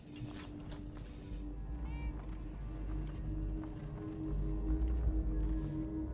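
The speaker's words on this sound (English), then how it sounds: "Oh, there's a cat!" A cat meows once, faint and brief, in the video game Fallout 4, set against a steady low in-game ambience with some rumble and clatter; no one speaks over it.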